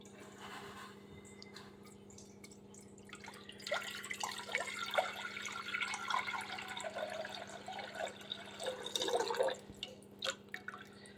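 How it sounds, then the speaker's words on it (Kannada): Water is poured into a pressure cooker in a home kitchen, with quiet drips at first, then a louder, uneven splashing and trickling that continues over a steady low hum. "ಕುಕ್ಕರ್ಗೆ ನೀರು ಹಾಕ್ಕೊತಾ ಇದ್ದೀನಿ."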